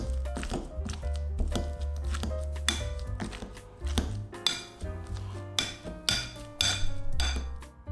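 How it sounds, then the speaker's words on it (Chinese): Hot steamed potatoes being mashed in a bowl with a hand tool give rapid, irregular knocks and clinks close up. The strikes grow sharper and louder in the second half, with no talking. "蒸熟的土豆趁热放在一个碗中，用一个工具把土豆捣成土豆泥儿"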